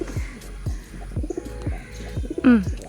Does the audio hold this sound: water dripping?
no